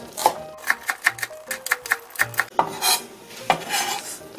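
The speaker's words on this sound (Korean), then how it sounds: "송송 썰어줍니다." A knife chops green onions on a cutting board while Korean pickled plum side dish is prepared, giving about a dozen crisp, evenly spaced taps close by, with no talking.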